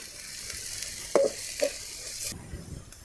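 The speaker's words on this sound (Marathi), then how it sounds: "कांदा आणि मसाले तळून झालेले आहेत" Onion and spices frying in a pan for dried-fish chutney, a faint steady sizzle with a couple of sharp utensil clinks midway, quiet and close without talk.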